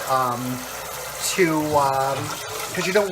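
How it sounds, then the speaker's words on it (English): Cold tap water runs over freshly boiled eggs in a home kitchen, a steady splashing wash that sits under a person talking throughout. "You want to hit it with cold water."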